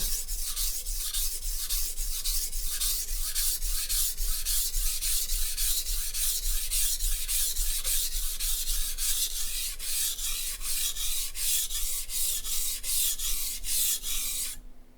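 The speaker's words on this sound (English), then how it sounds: "Now I can tell just by sharpening these last few passes is the stone lets go of material" A knife blade scrapes back and forth across a cheap $20 whetstone in steady, rhythmic rasping strokes, close and continuous with no talk.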